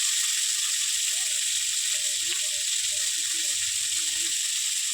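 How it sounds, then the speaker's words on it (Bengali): Meat frying in oil with onions for chicken momo filling makes a loud, constant sizzling hiss close by, with faint stirring clatter and a low voice murmuring underneath. "তেল আর পেঁয়াজের মধ্যে মাংসটাকে একটু ভালো করে ভেজে নিচ্ছি"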